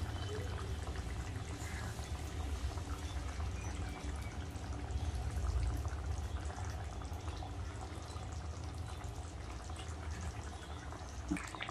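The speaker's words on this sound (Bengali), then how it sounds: "এবার দিয়ে দেবো উপর থেকে কাঁচা সর্ষের তেল।" Raw mustard oil is poured from above over a bhetki fish curry in a pan, a faint, continuous liquid pour and soft sizzle running steadily throughout with no voices.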